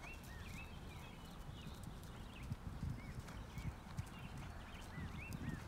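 Horse hooves clip-clop steadily through a dressage training ride with a fit event horse, a soft even rhythm of footfalls under low rumbling background noise, with occasional faint bird chirps and no talking.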